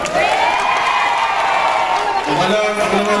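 A crowd at a political event applauds and cheers in a loud, continuous wash of clapping and shouting, with a voice rising over it near the end.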